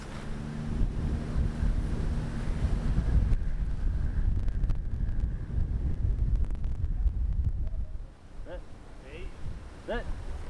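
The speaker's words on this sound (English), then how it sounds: "we got like 30 mile an hour gusts out here" Strong wind gusts of about 30 mph buffet the microphone on a golf course, a loud continuous roar that swells and eases, with short chirping sounds near the end.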